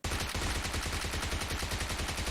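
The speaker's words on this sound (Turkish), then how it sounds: "Onu vurmam lazım hemen." Rapid automatic gunfire in PUBG Mobile, a fast continuous burst of loud, punchy shots repeating evenly for about two seconds with no talk over it.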